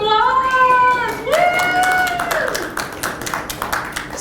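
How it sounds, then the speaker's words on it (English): City council members at a visioning session applaud themselves; a voice cheers first, then a burst of scattered hand claps follows, moderately loud in the room. "Give yourselves a round of applause."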